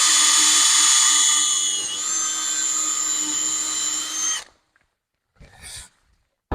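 A power drill bores into a wooden saw horse, a loud steady whine running for about four seconds, then cutting off, followed by a brief second burst near the end.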